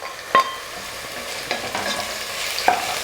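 Onions fry in a pan for vegetable biryani, a soft steady sizzle under a few sharp stirring clinks of a spoon against the pan.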